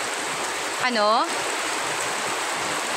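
Heavy rain falls steadily after a typhoon, a dense even hiss that fills the whole clip, with a brief whistling or squeaky tonal sound rising over it near the start.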